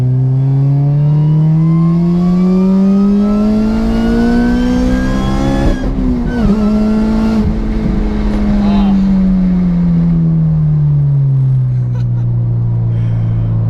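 A loud, close supercharged engine of a 2011 Honda Civic Si revs steadily up to a high-pitched scream, dips briefly, then winds slowly back down.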